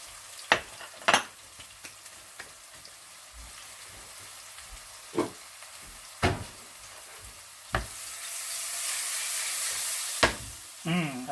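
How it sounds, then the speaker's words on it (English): Spices with turmeric are sautéed in a pan, giving a soft continuous sizzle broken by several sharp clinks and scrapes of stirring, close and moderately loud. "So let's just saute that for a while, maybe 10-15 seconds. Now I'm going to add the turmeric to this."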